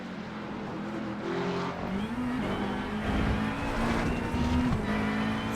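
A dual-turbo GT3 race car at Imola, heard from inside the cockpit as a loud, steady engine drone that climbs in pitch through the gears, with brief shifts and no talking.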